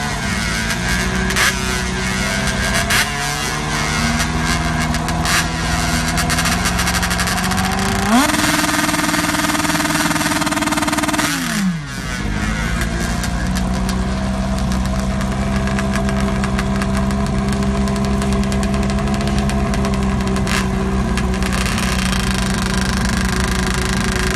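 A three-wheel motorcycle-powered racing entry idles and revs loudly and steadily at a drag racing staging lane, with one sharp throttle rise and drop midway through.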